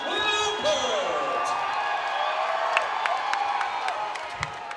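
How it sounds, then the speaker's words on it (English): A loud arena crowd cheers at a women's MMA bout between Singer and Lippert, a dense wash of shouting with scattered claps and sharp accents, while a voice carries over the noise. "This is the loudest we have heard the crowd so far tonight."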